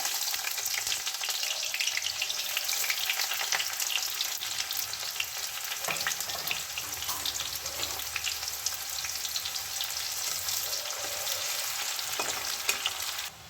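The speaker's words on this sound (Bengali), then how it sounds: "তো এবার আমি কড়াইয়ে একটা মিডিয়াম সাইজ পেঁয়াজ কুচিয়ে নিয়েছি, প্রথমে ওটা দিয়ে দেবো।" A chopped medium onion frying in oil in a wok, giving a steady, close crackling sizzle throughout with occasional scrapes and knocks of stirring.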